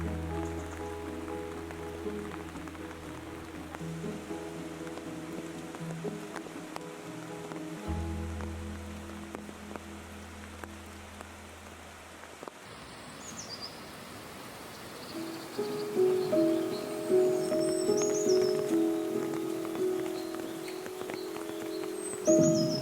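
Rain falls on a pond and forest trail in Kamikochi, Japan, a soft, steady patter under sustained musical tones that swell louder toward the end.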